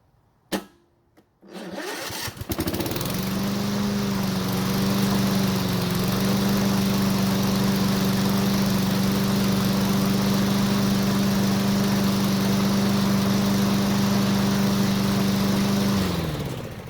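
A free, used riding lawn mower with a key start: a brief click and cranking, then the engine catches and settles into a loud, steady running drone with a slight dip in pitch partway through.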